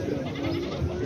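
Goats bleat with a steady, wavering cry at a busy goat and sheep market in Nookat, a close, sustained call over crowd murmur.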